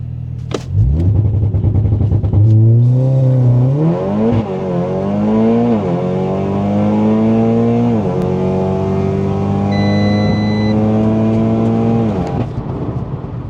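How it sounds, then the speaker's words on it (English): A 620bhp Audi S3 8V launching down a drag strip, loud engine revving up sharply and then climbing hard through several gear changes, close and continuous. "I'm going to launch it this time."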